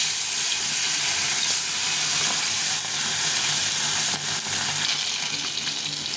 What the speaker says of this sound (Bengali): তেল গরম হয়ে গেছে, মাছগুলো ছেড়ে দেবো।